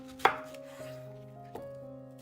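A knife halves a zucchini on a cutting board with a sharp first chop and a softer second one, close and clear over a faint background hum.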